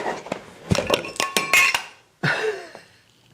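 An empty E.H. Taylor Small Batch bourbon bottle rattles inside its tube, giving a quick run of close, loud glassy clinks and knocks, a brief pause, then another shake that fades away.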